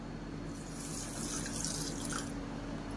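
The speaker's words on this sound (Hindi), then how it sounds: "अब इसी कटोरी से आधी कटोरी पानी डाल देती हूँ इसमें" Half a bowl of water is poured into sugar in a pan for sugar syrup when making suji barfi, a steady close splashing pour that runs alone for about three seconds.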